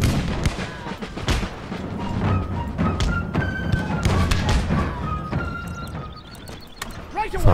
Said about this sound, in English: Some grenades working then.